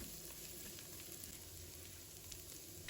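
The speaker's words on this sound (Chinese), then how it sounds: "我们把姜蒜末放入锅中，开大火快速的翻炒一下" Minced ginger and garlic sizzle in hot oil in a wok over high heat, a steady close frying hiss with faint stirring scrapes and no voices.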